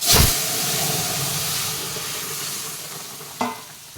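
Cumin and radhuni seeds hit hot oil in a home kitchen while pumpkin curry is cooked, a loud burst of sizzling at the start settling into a steady frying hiss, with a brief clatter near the end.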